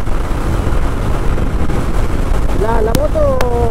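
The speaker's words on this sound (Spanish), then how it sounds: "hay muchísimo, pero muchísimo viento" Heavy, continuous wind buffeting a microphone on a moving motorcycle in strong gusts, a dense low roar filling the whole stretch, with a brief whistling tone rising near the end.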